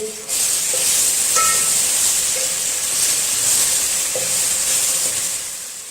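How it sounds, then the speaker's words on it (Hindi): Ginger and garlic paste fries in a pan with a steady, bright sizzle and hiss, occasional light scrapes of stirring breaking through the constant loud frying noise. "अभी इसमें हम शामिल करेंगे अदरक और लहसुन का पेस्ट और इसे अच्छी तरह फ्राई कर लेंगे"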